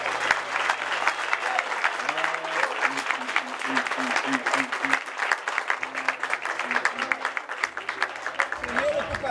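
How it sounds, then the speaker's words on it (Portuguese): Crowd applause for the families at a victory celebration of a land settlement in Ponta Grossa, Paraná, with rapid, continuous clapping, cheers and voices mingling over it. "Uma salva de palmas para essas famílias"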